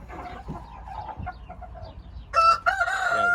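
Soft clucking and chirping chicken calls on an Aseel rooster farm, then a loud rooster crow near the end, close by.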